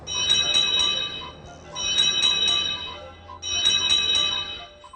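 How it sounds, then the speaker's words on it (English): Toby the tank engine's bell from a Thomas & Friends PC game rings in three bright, clanging bursts, each ringing about a second before a short gap. "I'm the only engine with a bell."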